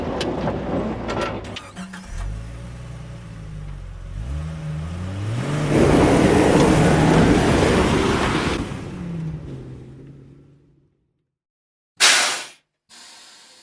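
A hot rod Jeep engine revs and climbs through gears while driving off-road, loud and close with rising pitch sweeps and a surging roar. It drops to near silence, then comes a short sharp burst.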